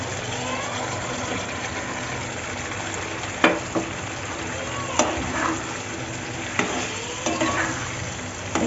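Chili gets stirred into beef liver masala frying in oil, a constant sizzle carrying periodic scraping clacks of the spoon against the pan.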